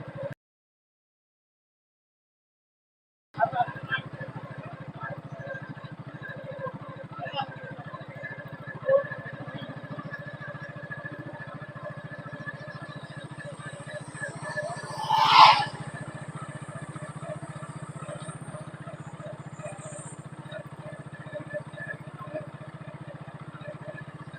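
A motorcycle engine drones at a steady, moderate level throughout a beginner's riding lesson, with a brief rise in revs midway. People talk intermittently over it.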